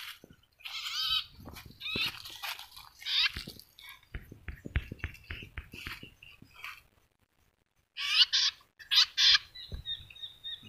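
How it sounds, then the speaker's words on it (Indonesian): Small wild birds chirp and twitter in quick, clustered bursts with brief pauses at a bird-trapping site in Ungasan, Bali, heard fairly close and clear. "Ya, burung kecil banyak."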